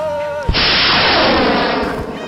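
A single sharp firework bang bursts out, loud and close, then its broad crackling roar sustains and slowly fades, with a voice heard just before it.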